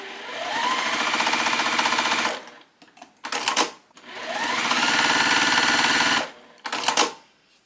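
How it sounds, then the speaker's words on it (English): A sewing machine stitches quarter-inch seams on fabric for a tiny pincushion, two long steady runs of rapid whirring stitches, each followed by short bursts, close and clear. "we're going to sew 1/4 inch on either side of the line"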